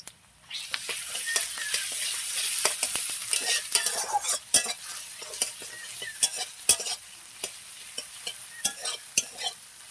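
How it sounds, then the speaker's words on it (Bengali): Onions fry with ginger-garlic paste in a pan, a soft sizzle broken by sharp stirring clinks and scrapes that grow sparser toward the end, with no talking. "লাল লাল করে পেঁয়াজটা ভেজে এতে দিয়ে দেবো আদা রসুন বাটা"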